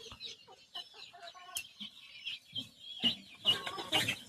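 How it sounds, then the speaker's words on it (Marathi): Chickens, including a large rooster and hens with chicks, cluck and chatter in short bursts close by, with a few sharper calls and brief flutters of activity in the background. "हे मोठा कोंबडा आहे बघा आणि इथं आले बघा कोंबडी"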